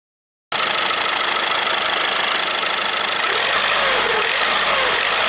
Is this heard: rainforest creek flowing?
no